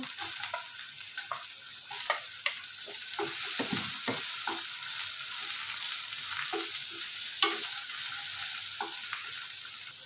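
Chopped onion and garlic sizzle in a hot pan as the base for Filipino creamy pineapple chicken, a steady close-up frying hiss with frequent stirring scrapes and ticks, no voices.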